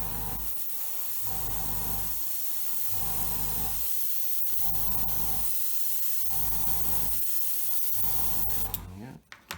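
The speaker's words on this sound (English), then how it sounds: "then we can just spray it on." A steady, close airbrush hiss sprays Humbrol paint thinned about 50-50 onto an Airfix Hawker Hurricane Mk.1 model continuously in pulsing bursts, with brief pauses, and cuts off sharply at the end.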